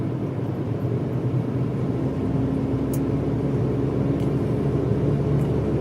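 A 2023 Maruti Celerio cruises in fifth gear on a highway near 100, heard from inside as a steady, loud low rumble of engine and road noise with no talk.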